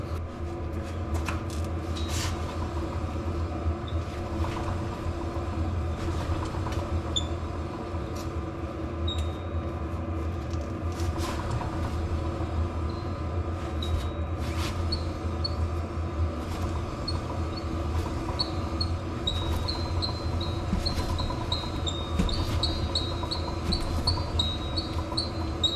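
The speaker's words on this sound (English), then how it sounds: "this is the annoying sound that is coming from my drive line" An annoying noise from a Jeep driveshaft drive line, a steady low droning rumble with faint intermittent squeaks and clicks, continuous and unchanging throughout.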